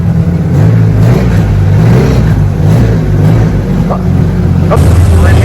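A turbocharged Honda Civic EF hatchback with 8-pound boost, GSR turbo setup, revs loudly as it drives out, a deep pulsing engine note rising and falling close by, with voices talking over it.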